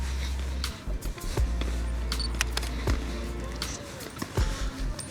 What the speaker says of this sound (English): you can hear the shutter putting in work on this thing.